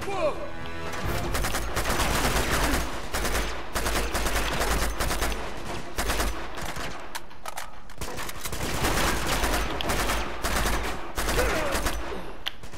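Rapid bursts of small machine gun fire from an Uncharted 2: Among Thieves gameplay firefight, dense crackling shots repeating almost continuously throughout, loud and close, with a voice talking over parts of it.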